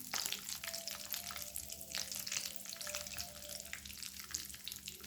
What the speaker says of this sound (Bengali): গোটা গরম মশলাটা ভাজা হয়ে গেছে।